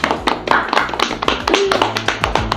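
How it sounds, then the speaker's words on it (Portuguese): A small group applauds a chef in a home kitchen, with close, rhythmic hand claps that continue steadily throughout. "Palmas pra nossa chefe."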